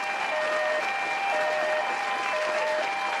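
A live comedy audience breaks into steady, loud applause that fills the whole moment without pause, with no voices over it.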